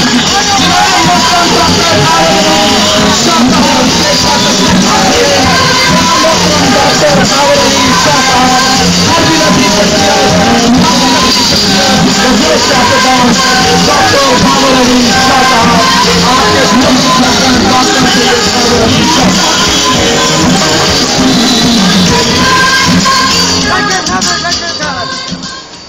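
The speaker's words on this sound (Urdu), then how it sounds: "اس بزرگ کا کھڑے ہو کر بھرپور تالیوں میں استقبال کریں" A large audience at a youth wing gathering applauds and cheers as Dr. Khawar Ali Shah is welcomed. The applause is loud and sustained, with crowd noise and shouts mixed in, and it fades at the very end.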